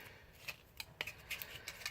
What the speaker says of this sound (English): So I use the scissors to basically cut it mostly out